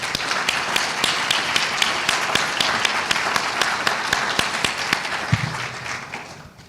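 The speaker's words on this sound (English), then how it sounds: "I ask you all please to give him a nice round of applause" Audience applause at an academic history awards ceremony, a sustained patter of many hands clapping at moderate volume that tapers off toward the end.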